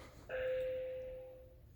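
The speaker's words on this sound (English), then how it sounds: "That was the bell." A doorbell gives a single quiet chime that rings out and slowly fades indoors, heard alone against a faint background hum.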